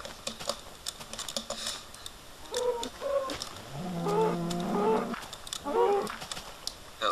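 A cow moos in a Minecraft-style farming game, with two or three low, drawn-out lowing calls in the middle, mixed with keyboard clicks and chirpy game birds nearby.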